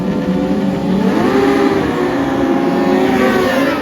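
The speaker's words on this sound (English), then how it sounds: "Race 2 underway then, and another great start by AJ Venter" Kawasaki ZX10 race motorcycles launching off the start of a race at Red Star Raceway, a loud massed engine roar with rising, overlapping revving pitches as the pack accelerates away, continuous throughout.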